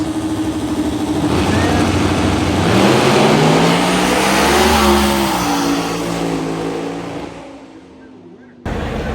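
A twin turbo Ford Mustang S197 accelerating down a quarter-mile drag strip, a loud rising engine roar climbing through the gears, then fading into the distance before an abrupt cut.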